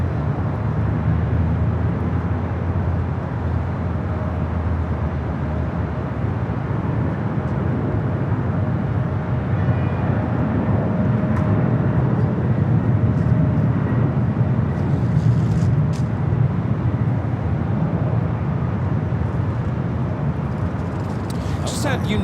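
A United Airlines Boeing 777-200ER touching down on runway 25 left at LAX after a flight from Newark: a steady, loud broadband jet roar with low rumble lasting throughout, and a voice speaking over it.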